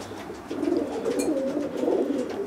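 Racing pigeons coo softly inside a loft, a low continuous murmur of several birds close by with a brief rustle in the middle.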